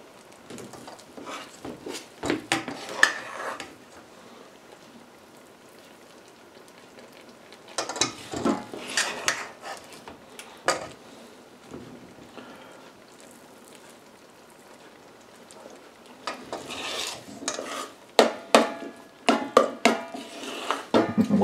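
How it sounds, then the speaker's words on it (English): A tablespoon drops gobs of dumpling dough onto simmering wild blueberries in a pot for a Canadian blueberry grunt. Clinking, scraping bursts of the spoon against metal come in three separated clusters with quiet gaps between. "just putting large gobs out of a tablespoon here"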